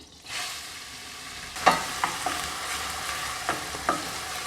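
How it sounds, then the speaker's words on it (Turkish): A steady sizzle of chopped onions frying in butter in a pan, broken by several sharp clinks and scrapes of a utensil stirring, close and fairly loud. "tereyağı eridikten sonra doğradığım kuru soğanlarımı ilave ediyorum"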